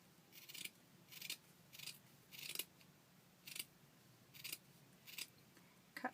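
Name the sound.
paper scissors cutting burlap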